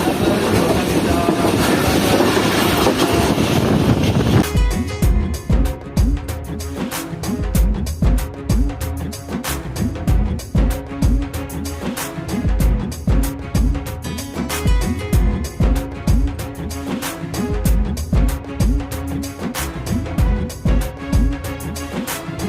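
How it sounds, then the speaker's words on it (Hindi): The Jaffer Express runs through Paglana railway station without stopping, heard from on board: a loud rush at first, then a steady rhythmic clickety-clack of wheels over rail joints continuing throughout. "तो ये ट्रेन इस वक्त स्किप कर रही है"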